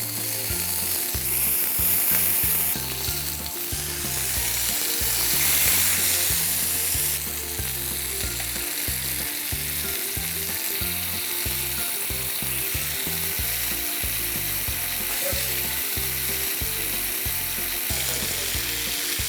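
Continuous crackling sizzle of paneer tikka cooking on a hot grill, with a repetitive beat-driven music track underneath throughout. No one speaks.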